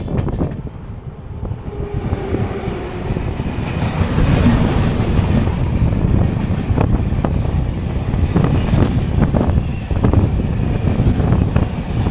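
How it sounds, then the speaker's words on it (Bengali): The Howrah Shatabdi Express passes near the Farakka bridge, a loud, continuous rumble of rolling wheels and rattling carriages with rhythmic clacks and wind buffeting the microphone. "এখন ক্রস করবে 12:42 হাওড়া শতাব্দী এক্সপ্রেস।"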